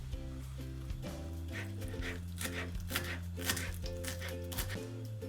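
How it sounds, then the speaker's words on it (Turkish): A knife chops dill rapidly and repeatedly on a cutting board, crisp close-up taps in quick bursts, with faint background music underneath. "Şimdi de dereotlarımı küçük küçük ince ince doğrayacağım."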